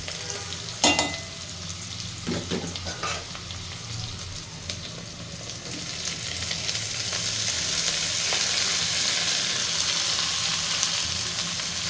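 Broccoli sizzles and fries with half-cooked onions in a pan, a steady hiss building over time, punctuated early by a few sharp clinks and scrapes of a utensil stirring.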